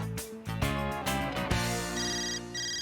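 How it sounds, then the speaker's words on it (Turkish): A telephone rings with a melodic electronic ringtone, a repeating sequence of bright tones that keeps going loud and steady, with no voices over it. "Telefon."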